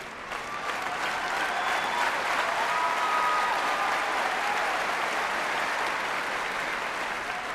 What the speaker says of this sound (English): another standing ovation by centre court crowd